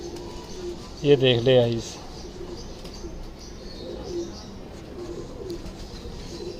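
A Ferozpuri pigeon, a pure-bred female, gives a short throaty coo nearby, then goes quiet while someone talks over faint background noise.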